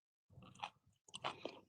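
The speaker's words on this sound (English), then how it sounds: "I don't want to hear you chewing on grapes." Someone chews grapes close to the microphone, two short bursts of wet crunching and squelching separated by a brief pause, quiet and with no talk over it.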